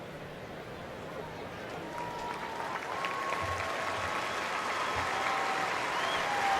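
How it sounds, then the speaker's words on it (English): A college football stadium crowd applauds an injured player sitting up on the field, a broad distant wash of clapping that slowly swells, with a commentator's voice faintly over it. "Nice applause coming from everybody in this stadium right now for the young man"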